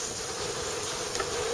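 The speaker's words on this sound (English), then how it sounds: "And a few wasps." Wasps buzz around a honey super as bees reclaim the leftover honey, a steady close insect drone that holds evenly throughout with no talk.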